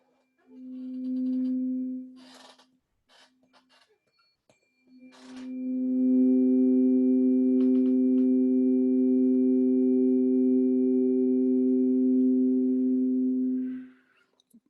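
Two tuning forks struck on a knee ring out together as a perfect fifth, first in a short sustained hum, then in a longer steady pure tone that fades after several seconds, with light handling noise between strikes.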